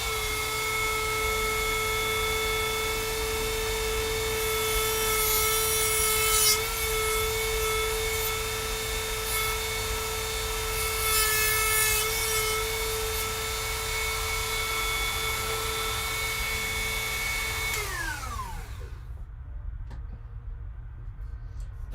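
A handheld Dremel rotary tool cuts with a loud, steady, high-pitched whine near the microphone, then spins down and stops near the end, with no talking.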